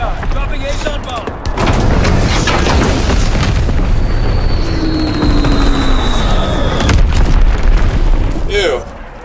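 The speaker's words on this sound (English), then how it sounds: "Dropping Azon bomb." An Azon bomb drop and artillery barrage in Call of Duty: World War II, with a sustained roar of heavy, booming explosions rumbling loudly for several seconds after an opening burst, then cutting off abruptly.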